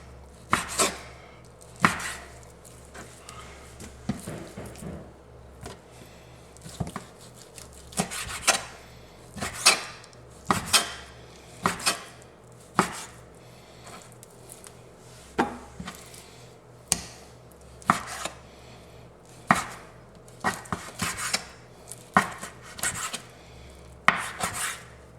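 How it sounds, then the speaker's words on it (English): Dull kitchen knife being sharpened while making old-fashioned vegetable beef soup, a long series of rhythmic scraping strokes, steady and close, with no talking. "I think it's about time to sharpen my knife"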